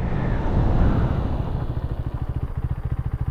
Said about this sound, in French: vous voyez le freinage, regardez, avec ABS, je bloque